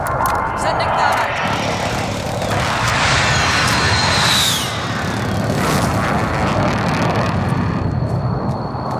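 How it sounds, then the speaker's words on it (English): Enemy precision airstrike in the battle royale shooter Call of Duty Warzone, with jet aircraft roaring overhead and heavy rumbling blasts in a loud, continuous wash of battle noise, radio-style voices talking over it. "Enemy precision airstrike. Take cover."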